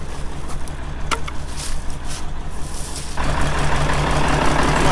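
A Ford with a swapped turbo diesel engine runs close by with a steady, pulsing, throbbing idle that grows louder and rougher near the end, suggesting the throttle is opened, with no talking.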